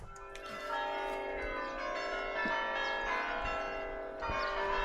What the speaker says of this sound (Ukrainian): Дзвони такі зазвичай, коли весілля.